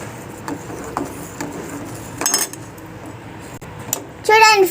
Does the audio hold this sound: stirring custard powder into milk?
yes